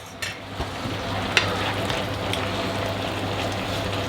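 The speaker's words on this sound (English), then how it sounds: "Got a nice boil going on over there." A cornstarch mixture on the stove bubbling and sizzling in a steady, even hiss with a low hum beneath and a single faint click, close and continuous, without voices.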